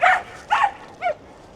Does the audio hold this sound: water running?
no